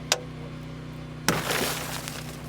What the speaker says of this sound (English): Break your glass.